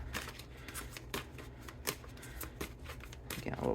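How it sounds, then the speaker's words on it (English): Tarot cards are shuffled in a rapid series of soft, close riffles and flicks, with no talking. "Getting a little crazy with this shuffle here today."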